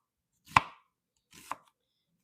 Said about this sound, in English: I'm going to cut my onions long and skinny as well.